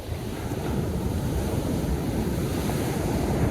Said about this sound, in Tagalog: Sarap na sa hangin dito, nak, no?